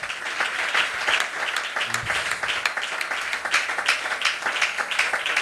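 A church congregation breaks into steady, dense applause that keeps going at an even level, with many hands clapping together in a large room.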